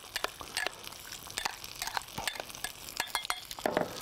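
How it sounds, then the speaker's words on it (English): Rice vinegar and fish seasoning are stirred in a pan, giving close scraping and light clinking strokes in an irregular rhythm over a soft background sizzle. "I'm just gonna give this a little stir."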